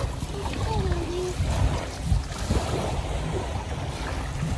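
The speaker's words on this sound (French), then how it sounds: "J'ai pas de micro par contre, du coup vous entendez beaucoup de vent." Heavy wind buffeting the microphone by the Caribbean Sea at Campeche, Mexico, a steady low rumble throughout, with a few faint voices underneath.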